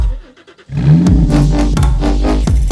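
A Porsche 997 fitted with an ECG Performance valved exhaust blips its engine after a short idle, letting out a loud, close, aggressive rev that rises and pulses with sharp exhaust crackles.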